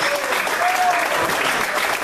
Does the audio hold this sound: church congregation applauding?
yes